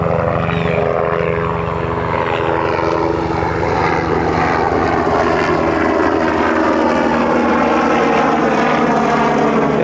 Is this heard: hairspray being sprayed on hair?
no